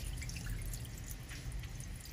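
Small dried fish being washed with salt under running water, a steady close trickle and splash of water in a sink with faint dripping throughout.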